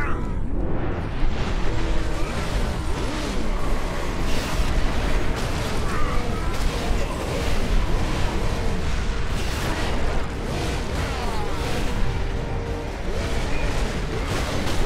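A flashbang grenade goes off during chaotic Space Marine combat, a bursting blast buried in a constant, dense wash of gunfire, explosions and game noise that runs unbroken for about fifteen seconds.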